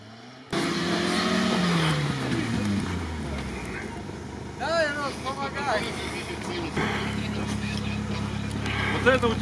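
A Niva off-road SUV, light with no extra weight, drives steadily with a loud low engine drone that starts abruptly and holds throughout, with people talking and calling out over it.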